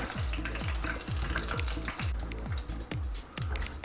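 Steady hiss of dough sizzling in hot oil, with soft low thuds repeating about twice a second throughout.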